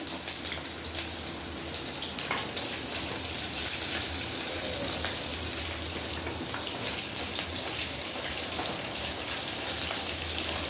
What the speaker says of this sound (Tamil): சின்ன வெங்காயம் நறுக்கி வச்ச வெங்காயத்தையும் நாங்கள் தாளிக்கிறதுக்காக போட்டுக்கிறோம்.